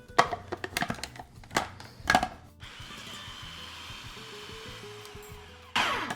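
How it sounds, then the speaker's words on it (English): A food processor works an oat mixture for carrot cake breakfast bars, first in short sharp pulses, then running in a steady whirring drone for several seconds before another loud burst. "We can pulse it or mix it on low until it's well combined"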